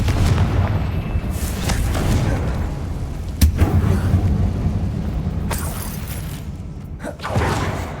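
Bombarda and Confringo spell explosions from the Hogwarts Legacy video game, a run of booming blasts with a sharp hit near the middle and another late, over continuous combat rumble with no talk.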